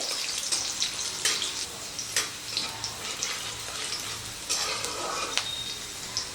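Chopped garlic and green chilli lightly frying in oil in a pan, a soft steady sizzle with repeated sharp clicks and scrapes of stirring.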